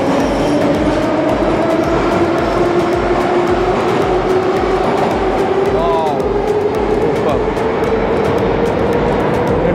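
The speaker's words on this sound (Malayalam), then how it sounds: "നോക്കുക, നമ്മൾ സ്റ്റേഷനിലെത്തിയിരിക്കുകയാണ്." Moscow metro train pulling into an underground station, a loud, steady roar of wheels and carriages with a gradually rising whine and a brief squeal near the middle, continuous throughout.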